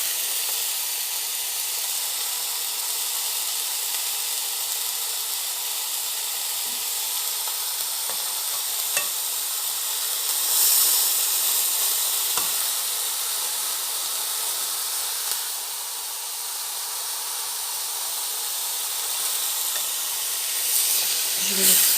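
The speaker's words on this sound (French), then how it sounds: "les steaks sont en train de cuire" Steaks cook in a pan with a steady, hissing sizzle that holds fairly loud and even throughout, with a few faint clicks and a brief swell partway through.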